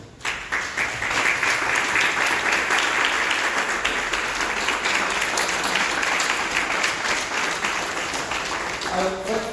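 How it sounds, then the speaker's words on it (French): A church congregation applauds at length, dense sustained clapping with cheering voices mixed in throughout, loud and close, tapering slightly near the end. "Est-ce qu'on peut acclamer le Seigneur?"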